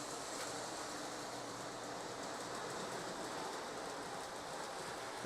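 A reconditioned Lionel O gauge model train runs steadily on a relay-controlled 5x8 layout, giving a continuous rolling rumble and whir with no breaks, fairly close and with no voices.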